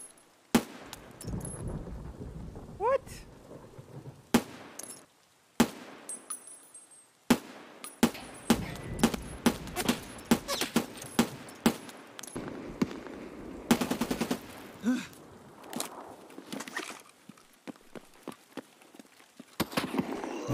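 Gunfire in the video game Escape From Tarkov: sharp single shots and rapid bursts at varying loudness, with quieter gaps and footsteps between them.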